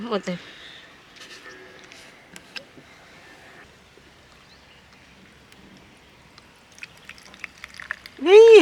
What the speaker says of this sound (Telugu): ఓపెన్ చేయి, ట్యాప్ ఓపెన్ చేయి